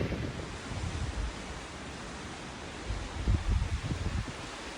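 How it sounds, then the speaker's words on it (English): Strong wind roars steadily across the microphone on a freezing mountain, Montezuma Pass on the Arizona Trail, in a broad, gusty rush, swelling louder near the end with low buffeting thumps. "I'm sure you can hear the wind"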